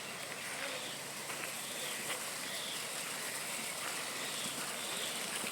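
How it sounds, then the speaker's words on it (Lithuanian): A spring-fed stream flows steadily on São Miguel in the Azores, a continuous, close rushing and trickling wash of water with no break and no voices. "Šitas upelis iš tų versmių ir bėga. Tas upelis čia ir teka."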